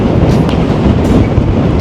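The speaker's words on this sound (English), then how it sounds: "So I'm here at the train station." A train rolls past Bramley station as a steady, loud, close rumble with broadband rail noise throughout, no voices.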